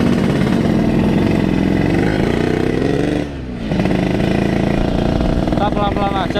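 A borrowed motorcycle rides through Jakarta city streets, its engine buzzing steadily close by with a brief dip in revs partway through, while traffic noise and a voice are heard under it.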